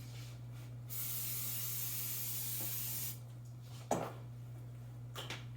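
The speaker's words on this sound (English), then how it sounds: "I'm going to spray to prep this pie dish." A steady hiss of cooking spray onto a pie dish lasting about two seconds, fairly quiet and close, followed by a soft clunk and faint handling sounds.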